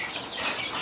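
A chicken clucking in a short, steady burst of rough, close, fairly loud squawking with no talk over it.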